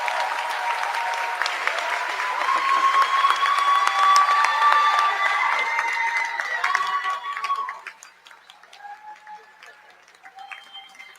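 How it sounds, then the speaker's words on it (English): An audience at a university Charter Day celebration applauds loudly after a speech with dense, steady clapping and some cheering, then the clapping thins and fades toward the end. "give Professor Smith another round of applause for that heartfelt message."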